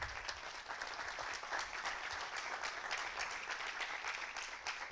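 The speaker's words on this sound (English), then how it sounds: "Time for an applause" Faint, steady applause from an auditorium audience at the Portugal Medical Cannabis conference in Lisbon after a talk, many hands clapping evenly at a distance without a break.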